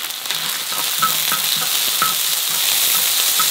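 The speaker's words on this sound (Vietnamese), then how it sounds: "Dầu đã nóng, mình sẽ cho vào đây tỏi băm," Minced garlic and shallots sizzle steadily in hot oil for a Vietnamese beef hotpot with fermented rice, a close, continuous crackle with small stirring clicks throughout and no talk.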